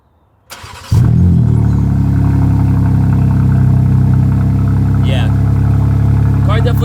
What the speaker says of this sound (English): let's get a nice cold start since the car hasn't started literally all day